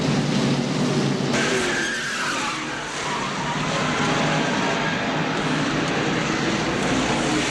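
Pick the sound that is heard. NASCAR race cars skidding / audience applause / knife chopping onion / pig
NASCAR race cars skidding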